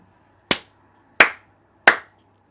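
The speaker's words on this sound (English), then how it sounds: "you guys were able to hear the clap" Three single hand claps picked up by a microphone, crisp and close, evenly spaced about two-thirds of a second apart in an otherwise quiet room.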